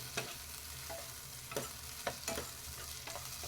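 Onion and tomato sautéing in a pan for egg curry, a soft continuous sizzle broken by repeated scraping stirs of a spoon, quiet and close.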